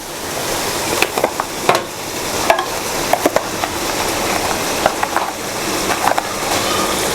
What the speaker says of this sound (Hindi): और ये 1 चम्मच कुटा हुआ धनिया ऐड करने के बाद इसे फिर अच्छी तरह मिक्स कर देंगे